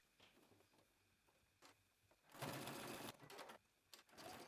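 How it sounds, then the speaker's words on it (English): A sewing machine runs a stretch stitch to close an opening in a dress, starting with light intermittent ticking, then a loud steady whir of stitching for about a second, followed by shorter bursts. "we're going to head back to our sewing machine, and I'm going to stitch that opening closed"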